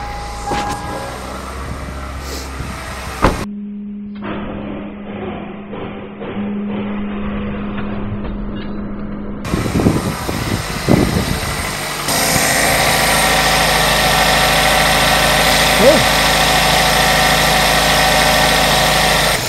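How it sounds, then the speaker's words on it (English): A car engine is cranked over and catches, then settles into a steady idle; the running engine is loud and close, with a rougher, revving stretch before a constant hum holds to the end. "Now I'm going to crank the engine."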